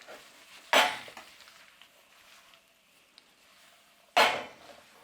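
Pasta tossed with chili and garlic in a pan, two distinct loud clanks and scrapes of the pan a few seconds apart, with a quiet low sizzle and faint room noise in between.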